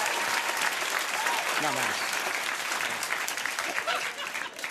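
Studio audience applause fills the room with loud, steady clapping throughout, while someone talks briefly over it.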